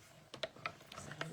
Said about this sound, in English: we'll use our little die to cut that cute little daisy out